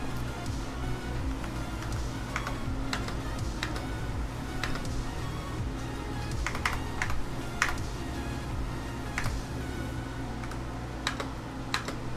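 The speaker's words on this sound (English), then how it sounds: "Why do I have the world's noisiest keyboard?" Rapid clacking of a very noisy computer keyboard being typed on, close and steady, with irregular bursts of keystrokes and brief pauses, no talking.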